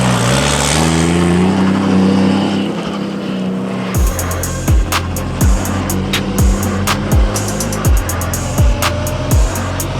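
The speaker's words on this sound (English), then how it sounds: "do some straight runs, get up a little bit RPM, a little bit of boost" A Toyota GT86 race car with a swapped BMW S58 engine and turbo boost makes straight runs: loud engine revving at first, then a rapid series of sharp gear-change bursts and pops as it accelerates hard.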